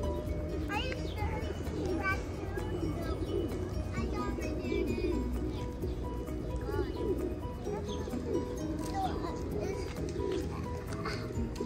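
Pigeons coo softly amid a large flock gathered for feeding, their low throaty calls running under near-constant talking and a voice.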